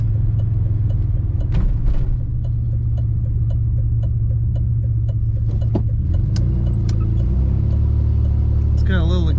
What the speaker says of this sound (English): It's got a little exhaust noise up front